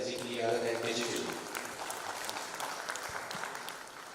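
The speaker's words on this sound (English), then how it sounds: "we really owe ourselves a big clap" Audience applause at a conference swells in the first second and a half over harmonic voices, then settles into a steady patter of clapping that carries on to the end amid lingering crowd murmur.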